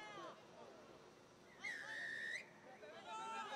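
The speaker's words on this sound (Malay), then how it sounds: "Ada lagi tipu wisel." A referee's whistle at a rugby cup quarter-final blows one sustained shrill blast, then a shorter one after it, heard over a commentator's voice and crowd chatter.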